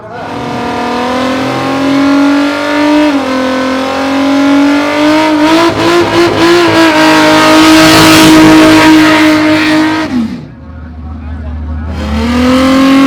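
A 2JZ-powered drag car capable of an 8.27-second pass accelerates hard, its engine note climbing through gears with brief shift dips, loud and close, and a crowd murmur underneath.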